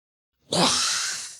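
A voice imitates a toilet flush with a single breathy, rushing whoosh that starts suddenly and slowly fades.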